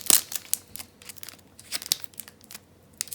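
A Magic: The Gathering booster pack's foil wrapper is torn open and crinkled, with sharp bursts of tearing and crackling rustles close to the ear.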